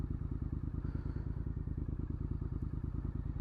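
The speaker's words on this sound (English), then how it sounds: "Just a little short ride out on the Triumph Scrambler 900." A Triumph Scrambler 900 motorcycle engine thrums steadily up close, with a loud, continuous rhythmic pulse and no voices.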